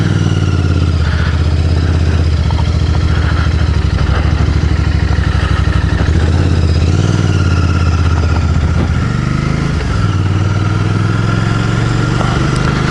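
A 2024 Royal Enfield Bear 650 with a 648cc air-cooled parallel twin and 270-degree crank, riding along with a loud, steady engine drone under rushing wind, pitch rising and dipping slightly as it accelerates.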